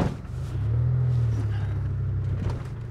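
A DeLorean DMC-12 drives along a narrow, winding country lane, its engine giving a steady low rumble that swells slightly mid-way and holds close and loud throughout, with no talk over it.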